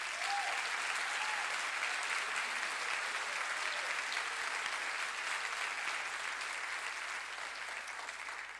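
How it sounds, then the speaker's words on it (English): Sustained audience applause fills a band concert hall, a dense, steady wash of many hands clapping that holds evenly and tapers slightly toward the end, with no talk over it. "Let's give them a big round of applause."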